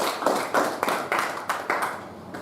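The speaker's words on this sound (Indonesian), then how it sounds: "Tepuk tangan dulu untuk Penya" A classroom of students claps their hands for a classmate, a short burst of uneven rhythmic claps rising and falling in waves, fairly close and with no talking over it.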